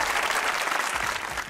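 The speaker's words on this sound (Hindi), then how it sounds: "तालियां" A studio audience at a comedy talk show breaks into loud, dense applause, a brief burst of clapping that fills the moment and tapers slightly.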